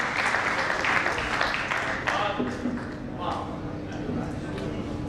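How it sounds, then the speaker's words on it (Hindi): Audience applause welcoming Yogita Chauhan to the stage before a Saraswati vandana, a broad steady patter of clapping heard close and fairly loud, mixed with scattered voices throughout. "मैं चाहूंगा कि खूब जोरदार तालियों के साथ प्रिय योगिता चौहान को आमंत्रित करें"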